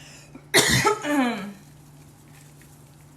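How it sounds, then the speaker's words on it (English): A single close cough into a hand, a short harsh burst followed by a throaty rasp, then quiet room hum. "it's okay if I coughed in my hand because I'm the only one eating it"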